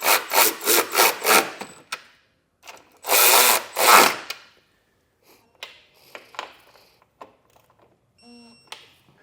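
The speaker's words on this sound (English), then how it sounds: "we'll take a 13mm socket, we'll come back and we'll tighten them down." A 13mm socket tightens running board bracket bolts on a 2023 Jeep Grand Cherokee: a quick series of rhythmic ratcheting bursts, then two longer close bursts, trailing off into sparse faint clicks.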